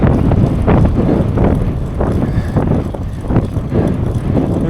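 Strong wind buffets the microphone of a road cyclist riding along open ground beside Lake Flanagan, a loud continuous low rumble with gusty surges and no talk.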